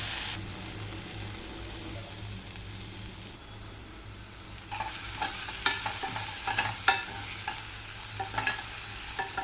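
Capsicum and spinach frying with salt in a pan over a medium flame, a steady low sizzle that gives way to a run of close spatula scrapes and clatters against the pan.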